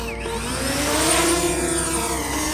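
A DJI Mavic Mini drone takes off over wet ground by water, giving a steady, loud, high-pitched propeller whine and buzz that holds for the whole stretch, with no one speaking.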